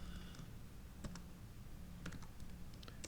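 Scattered keyboard clicks on a computer while editing an Android app's background color, a few quick taps in short bursts over a low room hum, fairly quiet and close.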